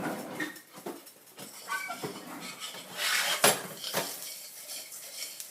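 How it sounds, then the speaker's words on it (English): Spoon stirring cornstarch in a pot on an electric stove, with a run of scraping and clinking contacts against the metal, moderately close and fairly soft, and a sharper clank near the middle. "we're going to keep stirring it until it's dissolved"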